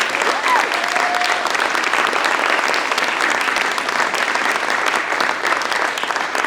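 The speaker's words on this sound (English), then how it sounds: "let's give them a big round of applause." Sustained applause from a large crowd at an art awards ceremony, steady and dense throughout, with a faint brief whistle near the start.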